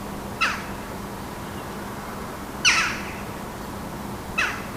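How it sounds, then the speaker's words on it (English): Three harsh, scratchy magpie and jackdaw calls spaced a couple of seconds apart, fairly distant, over a steady low background hum. "the sky erupts with the sound of magpies and jackdaws."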